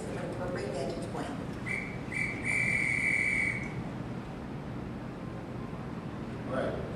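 A short, clear whistle sounds over a soft, noisy background, a few bright tones rising above the hiss, fairly faint and brief.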